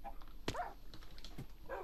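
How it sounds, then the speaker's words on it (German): A Minecraft wolf from the video game gives a short bark or yip amid low, faint game background sounds, brief and quiet. "ich mach mal kurz einen Wolf, damit er die frisst"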